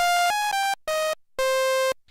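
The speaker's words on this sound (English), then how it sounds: "So that is the sound of the raw oscillator" Bright, buzzy raw sawtooth oscillator tones from a Roland Alpha Juno 2 synthesizer, rich in harmonics, played as a few short notes then one longer held note, with brief silences between, loud and dry.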